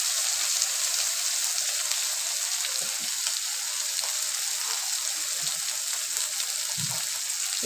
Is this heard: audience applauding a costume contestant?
no